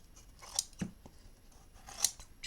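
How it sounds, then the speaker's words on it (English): Scissors trimming excess tape on a handmade hardcover notebook, a few separate quiet snips and crisp cuts spaced apart, close up with no talking. "Trim off any excess tape."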